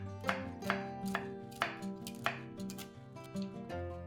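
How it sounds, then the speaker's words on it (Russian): A sharp knife chops walnuts on a cutting board in a quick irregular rhythm, about ten crisp close-up hits with faint scraping between them. "Орехи нарезаем ножом на более мелкие кусочки."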